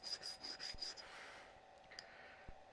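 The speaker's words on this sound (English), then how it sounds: "hold the stone, put the part down on there, and just rub it back and forth" A small metal borescope part rubbed back and forth on a sharpening stone, about five quick scraping strokes in a steady rhythm, then a quieter grinding drag with a couple of light taps, close and soft.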